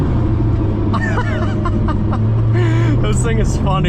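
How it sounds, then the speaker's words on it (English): A Koenigsegg Regera engine rumbles steadily under power, close and loud throughout, beneath someone talking and chuckling. "I will say the turbo blow off is awesome"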